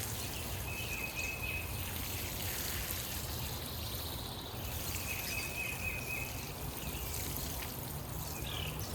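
Water poured over freshly planted nasturtium seeds in an old basket, a steady soft trickle running through the whole stretch with faint birds or insects in the background.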